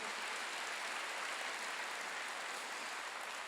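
A church congregation at a Wednesday worship service applauds steadily, a dense wash of clapping that holds at an even level throughout, with no talking.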